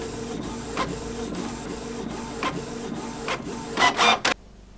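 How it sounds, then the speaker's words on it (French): An inkjet-style printer prints a weekly planner page, feeding paper with a steady whir, rhythmic carriage passes and soft clicks, and ending in a louder final burst before it stops abruptly. "je vais imprimer celui de cette semaine et je vais le remplir avec vous"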